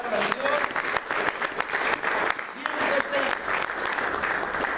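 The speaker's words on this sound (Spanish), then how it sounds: "Si alguien entendió eso, déle un fuerte aplauso a la palabra de Dios." A church congregation claps together in a dense round of applause, with individual hand claps standing out and voices mixed in beneath the clapping.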